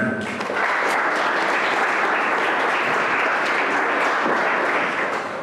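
Loud, sustained applause from an audience at a school launch of Chinese-language teaching in Uganda, a dense even wash of clapping with no voices on top.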